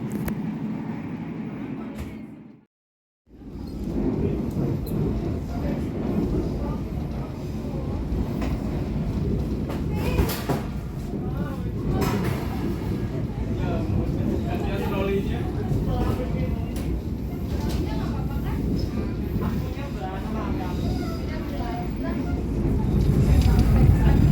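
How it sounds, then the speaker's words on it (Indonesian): The Sembrani passenger train pulls into Bojonegoro station with a continuous low rumble and rattle of rolling cars that builds slightly toward the end, and people talk over it. "Kereta api Sembrani telah tiba di stasiun Bojonegoro"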